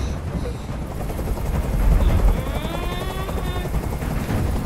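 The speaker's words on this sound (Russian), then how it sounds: "Как же меня бесит этот звук! Прикажи им, чтобы вертолет убрался!" Helicopter hovering in the video game Detroit: Become Human, a steady loud rotor drone with low thumping and a rising whine, accompanied by sharp crackling bursts throughout.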